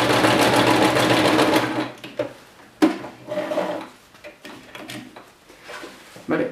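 A domestic sewing machine stitches flamenco dress flounces together in one loud steady whirring run for about two seconds, followed by scattered clicks, fabric rustles and handling knocks as the machine stops.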